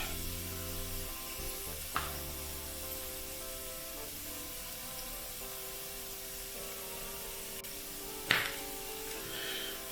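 Bologna slices frying in a pan give a steady, close sizzle with a hiss that holds through the whole stretch, broken by two sharp clatters. No one speaks.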